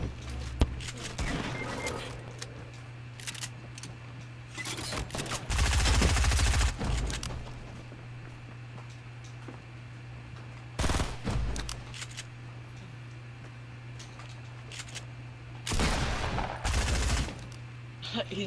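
Gunfire in Fortnite Battle Royale on Xbox, with several loud bursts and single shots spread across the stretch over a steady game hum, separated by quieter gaps.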